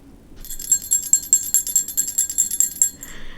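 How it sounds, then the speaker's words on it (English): A tiny bell meant for the tip of a knitted hat jingles close by, its bright high tinkling pulsing in quick shakes for about two and a half seconds before stopping. "And then I have a tiny little bell"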